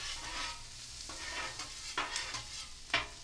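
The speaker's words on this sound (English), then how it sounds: "Get these onions turned up nice." Onions fry in a pan during a breakfast cook and are turned with a utensil, making a soft steady sizzle with several scraping stirs, close but fairly quiet.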